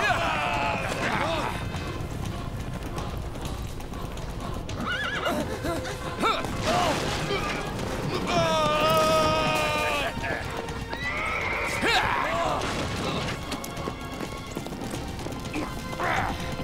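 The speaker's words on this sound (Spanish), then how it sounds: "¡Caballos!" Horses neigh and whinny repeatedly over galloping hoofbeats in an animated battle scene with soldiers, loud and busy, with shouting voices mixed in.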